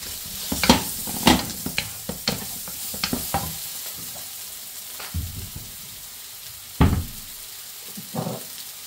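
Onion fries in a pan while a utensil stirs it in a home kitchen. Sharp scraping strokes come in irregular bursts over a faint, steady sizzle.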